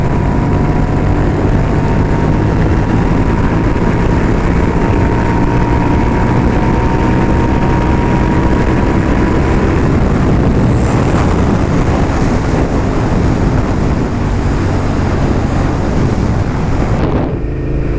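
A Suzuki SV650S motorcycle with a Shark exhaust roars loudly and steadily with heavy wind buffeting from riding, the engine drone holding continuously throughout with a slight shift near the end.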